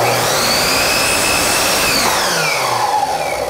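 A loud power saw whines steadily while cutting closet trim, the high motor tone shifting slightly as the blade works through the wood, with no talking.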